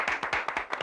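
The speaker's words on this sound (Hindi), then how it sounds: "दोनों को तालियां।" Quick, rhythmic hand clapping from a group on a TV show, several sharp claps in a row at an even pace, fairly close.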